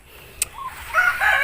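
A chicken in a garden of string-bean plants gives a short squawking cluck, close and brief, over faint outdoor background.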